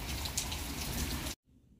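Rain falls in a steady, dense hiss of pattering drops for just over a second, then cuts off abruptly into near silence.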